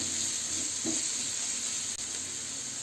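Shredded cabbage and vegetables stir-frying on a high gas flame for hakka noodles, a soft continuous sizzle and hiss with one faint stir, fairly quiet throughout.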